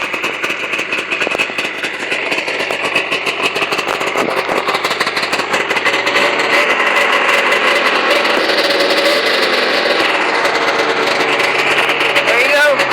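A Ski-Doo Skandic snowmobile engine cold-started with a single pull, then settling into a steady, loud, rough idle with a continuous buzzing drone, close by, while people talk over it.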